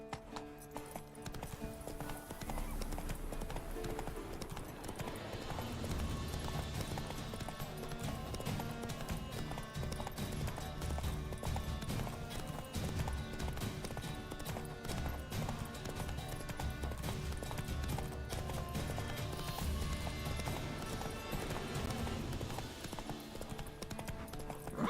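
Roach, the horse in the video game The Witcher 3, gallops with rapid rhythmic clip-clop hoofbeats that carry steadily for the full stretch, loud and close over game music and ambience.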